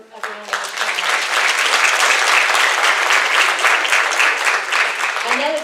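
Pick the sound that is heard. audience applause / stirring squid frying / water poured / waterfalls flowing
audience applause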